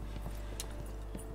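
Horse hooves clip-clop softly in a video game, a few light irregular thuds spread over a steady low background hum.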